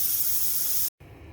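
A pressure cooker of chicken pulao releases a loud, steady jet of hissing steam, briefly cut off, then a quieter hiss resumes.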